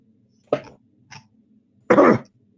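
Someone coughs and clears their throat close by: a short cough, a faint catch, then a longer, harsher cough, with no talk.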